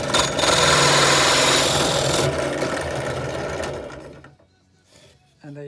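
A holesaw cuts a circle through wood: a loud, dense buzzing grind close by that fades after a few seconds, followed by a few quiet knocks.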